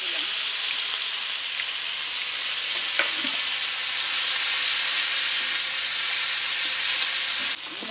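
Bay leaf, cumin and dried chilli tempered in hot oil give a steady, loud hiss and sizzle with light stirring clicks, continuous throughout, for a Bengali fish curry with greens.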